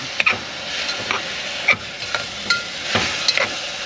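Tomato, chili and ginger frying in a pan, a close steady sizzle broken by several sharp stirring scrapes at irregular intervals.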